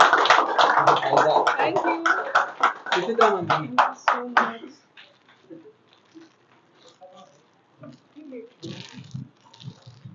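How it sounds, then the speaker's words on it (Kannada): Audience clapping at a celebration for an Android and iPhone chip-level training course, a dense burst of applause for the first few seconds that thins out into scattered claps and low chatter. "ಚಪ್ಪಾಳೆ."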